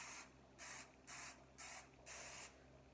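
Cooking spray hisses onto a baking pan in four or five short bursts of varying length, close and fairly loud, with brief pauses between, before ground beef goes in for a freezer-meal pie.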